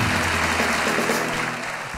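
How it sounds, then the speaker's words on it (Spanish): Applause from a comedy show audience cheering on a volunteer, a dense steady clatter of hands filling the room with a low hum of voices underneath, easing slightly toward the end. "Aplauso para mi amigo"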